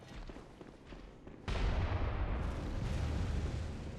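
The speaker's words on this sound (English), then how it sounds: "This guy has a fucking enormous church cannon" An enormous church cannon firing in Bloodborne's Nightmare Church, a sudden heavy boom that erupts after a quieter stretch and leaves a loud, rumbling wash of debris and reverberation lingering afterward.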